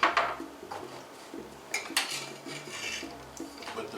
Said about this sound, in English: Let's mix this salad in here.